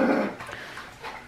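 A dog in heat whimpers and whines briefly indoors, a loud close burst that fades into softer rough noises.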